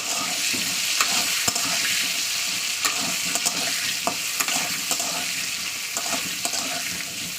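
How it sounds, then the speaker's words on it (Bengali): Potato pieces frying in oil with salt and turmeric powder, a continuous close sizzle with repeated sharp clicks of a spatula stirring against the pan. "লবণ হলুদ দেওয়ার পরে তেলের উপরে ভালো করে ভাজা ভাজা করতে হবে"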